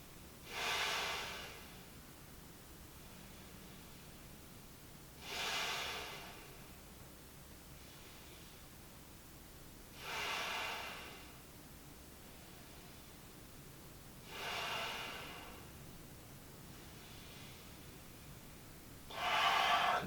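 Deep, slow breathing during a gentle yoga floor routine, five long airy breaths spaced evenly about every five seconds, close and quiet with nothing else around them.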